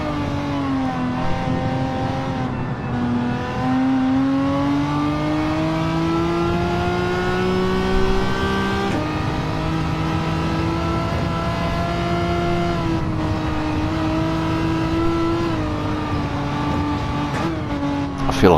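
Race car engines roar steadily in a racing video game, one engine note rising and falling through gear changes while a cluster of other cars hums close behind, loud and continuous with no talk.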